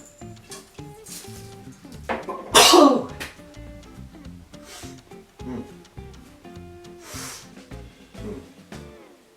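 A sudden loud sneeze cuts through a busy stretch of talk and kitchen noises while salt is added to a watermelon cordial, standing out as one sharp burst.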